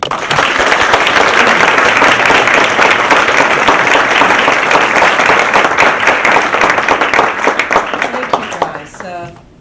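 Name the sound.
audience applause for lecture speaker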